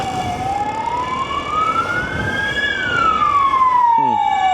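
Police and ambulance sirens wail upward then slowly fall, loud and close as they pass, over road traffic rumble.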